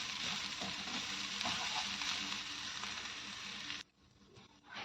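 Coconut masala sautés in a pan with a dense, steady sizzle and faint stirring scrapes, loud and close, then it drops off abruptly near the end as the heat or stirring stops.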